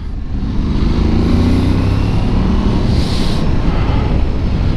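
Aprilia Tuareg 660 motorcycle engine droning steadily while riding, a loud, close, continuous hum mixed with rushing wind, with no talk over it.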